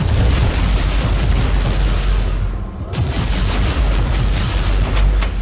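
Grenade explosion in the Warhammer 40k: Inquisitor-Martyr action RPG: a dense, continuous barrage of loud booming blasts and rumbling debris, briefly dipping before erupting again, with no talk over it.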